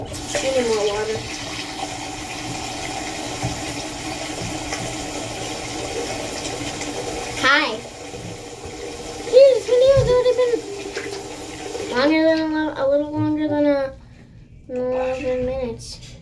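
Water running from a tap while a LOL doll's head is dunked, a steady splashing flow that cuts off, followed by close talking.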